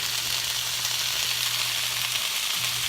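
Frozen peppers hit a hot pan turned up high and sizzle loudly and steadily, a continuous bright frying hiss with a low hum underneath and no voices.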